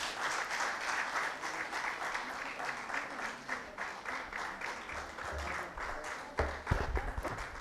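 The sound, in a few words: audience applause, standing ovation at poetry gathering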